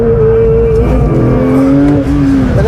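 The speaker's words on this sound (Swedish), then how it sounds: "Nu väcker vi den här fantastiska motorn till liv lite grann." A Porsche 911 GT3 of the 992 generation revs its engine loudly and close, a sustained, rising mechanical howl with shifting tones and a brief dip near the end, and no talking.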